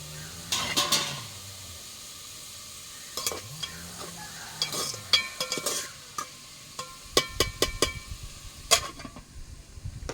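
Onions with a little salt frying in a pan for a prawn and brinjal curry, with a spatula stirring in bursts of scraping and clanking and a steady sizzle underneath. The sound is close and fairly loud.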